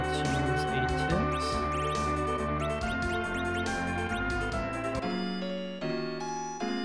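Chiming item-use jingle after pitching a tent in Final Fantasy IV on the SNES, a bright sustained run of layered synth tones over a steady backing, loud and continuous with no voice over it.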